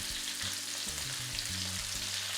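Onion fries in a pan with a steady, close, dense sizzle that holds evenly for the whole moment, with a low hum underneath and no talking.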